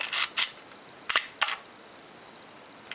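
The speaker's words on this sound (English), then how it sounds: "The shutter actuates properly." Several crisp mechanical clicks of a Pentax Super Program camera's shutter firing, spaced apart in a quiet room, close and fairly soft.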